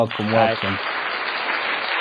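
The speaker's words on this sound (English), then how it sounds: "The applause is great." On a live streamed talk show, a brief voice gives way to a steady, thin-sounding burst of crowd applause that fills the remaining two seconds evenly.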